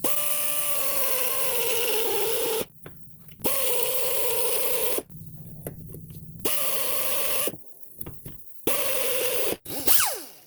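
A carbide bit grinds rust off the wheel hub of a 2010 Subaru Impreza in four sustained, whining bursts separated by short pauses. The last burst is brief and trails off.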